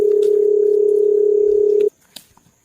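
A telephone dial tone hums steadily and loudly for almost two seconds while a call is being placed, then cuts off abruptly, leaving faint room noise and a few small clicks.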